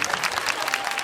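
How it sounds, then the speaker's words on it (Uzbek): Audience at an Uzbek stand-up comedy show applauding steadily, a dense wash of clapping that stays even and fairly loud throughout the short burst. "Opamga qarsak bo'lsa"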